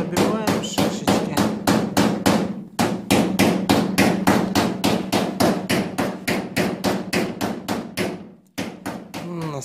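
A hammer taps rapidly and evenly on a Korean car's panel during paintless dent repair, in dozens of close, crisp strikes with two short pauses.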